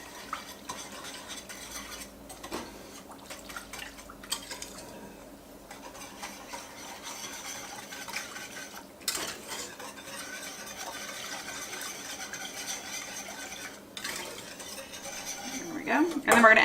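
A spoon stirs sugar into a batter mixture in a metal pot for German chocolate cake, scraping and clinking steadily and up close for the whole stretch, growing louder toward the end.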